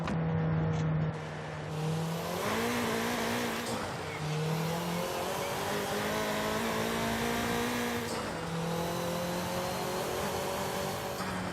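A Nissan Sentra Nismo in Forza Horizon 5 revs hard through its gears. The engine note climbs steadily, drops at each shift, then climbs again, loud and close with no talking.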